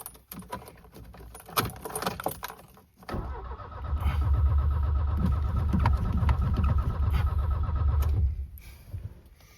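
An old car engine cranks and struggles for several seconds with a rough, churning rumble, then stops without catching; scattered clicks and rustles come before it.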